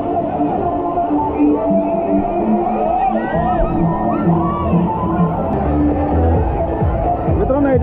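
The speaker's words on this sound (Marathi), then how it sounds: "सर्वीकडे पालकांचा मुलांचा कल्लाच कल्ला" Crowd of children and parents shouting, whooping and playing at a water resort in Badlapur, a dense continuous hubbub of voices and splashing play filling the scene.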